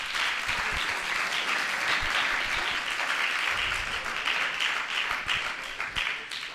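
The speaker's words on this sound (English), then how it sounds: "Let's congratulate the winners with a huge round of applause." An audience at a school English speech competition gives the winners a long round of applause, dense and continuous clapping from many hands, a few individual claps standing out near the front, with no voices over it.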